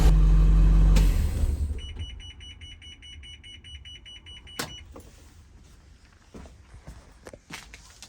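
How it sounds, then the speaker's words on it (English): A loud low electronic tone cuts off, followed by a high beeping chime pattern for a few seconds as a first-generation IC CE school bus stop arm disarms, with scattered clicks and footsteps afterward. "I like the disarming sound."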